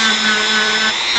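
Rough sanding on a Final Fantasy V model: a steady, loud, gritty whir of a power sander runs continuously and close, with a constant motor drone under the abrasive hiss and no voices.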